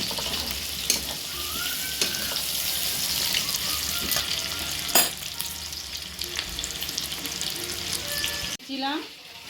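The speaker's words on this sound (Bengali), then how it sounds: "পেঁয়াজ কাঁচা লঙ্কাটা ভাজা হবে।" Onions and green chilies fry in hot oil in a kadai, giving a steady loud sizzle throughout, with a few utensil scrapes and a brief water-like sound near the end.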